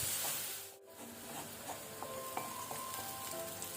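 Sliced onions fry in oil over a medium flame for egg palak gravy, a steady soft sizzle and crackle with occasional light stirring scrapes, close and alone without talk.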